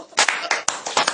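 Applause from a church congregation, a short burst of several sharp hand claps close by and fairly loud, no voices.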